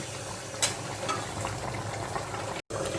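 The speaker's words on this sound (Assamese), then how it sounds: "মোৰ চিকেনখিনি দেখিছে ধুনীয়াকৈ উতলি আছে।" Chicken pieces boiling in a pot for Assamese-style chicken curry, a steady close bubbling simmer with a few faint clinks, broken by a brief drop to silence near the end.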